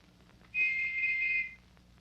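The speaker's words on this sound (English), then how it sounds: "listened for another whistle" A brass whistle sounds once from a distance, a single steady shrill tone lasting about a second over a faint low background hum.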